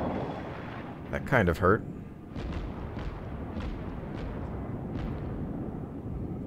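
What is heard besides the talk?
torpedo hits exploding on a ship in World of Warships video game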